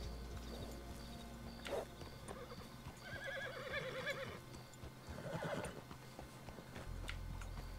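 A horse neighs and whinnies in the open-world game Red Dead Redemption 2, with several shrill calls rising over soft hoof clip-clops and quiet ambient background, fairly close and clear.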